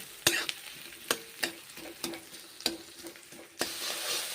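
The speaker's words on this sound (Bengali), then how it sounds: "তেল দিয়ে পেঁয়াজগুলোকে আমি ভেজে নিচ্ছি" Onions frying in oil in a home kitchen pan while cooking a yardlong bean dish, a steady sizzle broken by several sharp clatters of stirring, close and fairly loud, with no voices.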